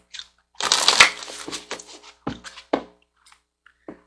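Soul Coaching Oracle cards are shuffled by hand, a dense burst of riffling followed by several short separate card slaps and taps, close and fairly loud, fading to a few faint clicks.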